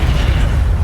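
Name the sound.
Levioso spell cast in Hogwarts Legacy video game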